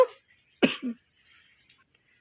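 A child coughs once sharply and close, followed by a softer throaty catch and a faint later sound, in an otherwise quiet space.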